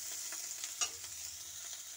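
Bitter gourd and potatoes fry in oil in a quiet, low hiss, with faint intermittent stirring scrapes and one brief louder clink, heard alone without speech.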